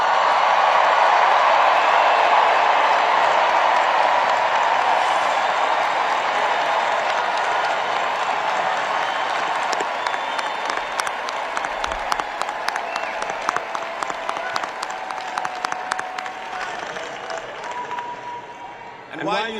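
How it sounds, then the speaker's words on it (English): A large crowd gives sustained applause for the graduating class of 2023 at a Howard University commencement, loud dense clapping that holds steady, then thins into scattered claps before fading. "please stand so that we can give you the appropriate applause"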